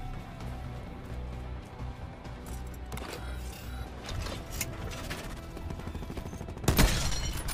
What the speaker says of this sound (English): I have used a sniper rifle, and this is what happened the first time I did that.